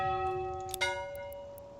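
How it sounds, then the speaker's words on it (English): A single church bell in the video game Manor Lords strikes once, its bright tone ringing out and slowly decaying over a steady sustained hum. "you can change the church bell sound."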